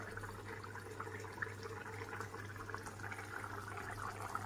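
Fish curry gravy simmering in a cooking pot, a steady soft bubbling and low liquid churn that continues evenly throughout, with no talking.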